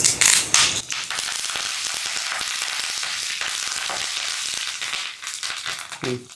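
Crushed garlic cloves, dried red chilli pieces, asafoetida and curry leaves frying in hot oil as a tempering for gongura dal, a loud initial burst of spattering that settles into a steady, crackling sizzle, flaring again near the end.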